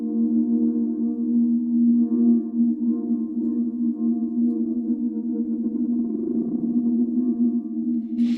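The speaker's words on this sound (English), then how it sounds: "We have some additional modulation in pad type of instrument, and it's controlled by an LFO." A sustained synth pad from a sample library holds a steady low chord, its tone slowly swelling and shifting with a gentle LFO-driven wobbling modulation, no voices present.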